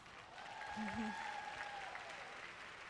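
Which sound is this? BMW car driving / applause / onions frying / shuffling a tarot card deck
applause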